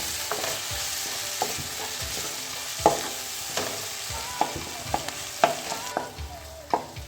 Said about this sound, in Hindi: तो बस मैं हल्के से इसकी बुनाई करती हूँ।